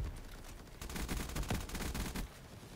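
A nail gun fires in Black Ops 3 Custom Zombies, a fast stream of sharp, punchy shots that grows denser in the middle and then trails off, close and fairly loud with no voices.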